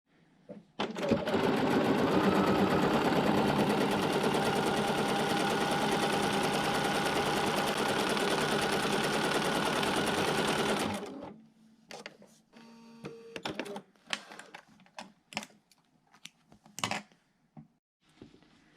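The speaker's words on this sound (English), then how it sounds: "we're going to sew on that drawn line" A sewing machine runs continuously for about ten seconds, stitching along a drawn line on fabric, loud and steady, then stops and is followed by scattered handling clicks and rustles.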